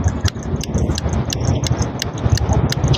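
A small handheld stitching machine clicks steadily as it runs, a rapid, regular ticking of sharp mechanical clacks heard up close with a soft rumbling underneath.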